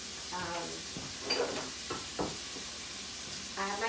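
Italian sausage browning in a pan for lasagna, a steady sizzling hiss with occasional scrapes and stirs, while a person talks intermittently over the cooking.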